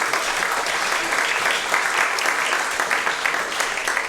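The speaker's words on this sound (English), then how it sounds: "one more round of applause" Steady applause from an audience at a community-ownership anniversary celebration, a sustained dense patter of many hands clapping with no speech over it.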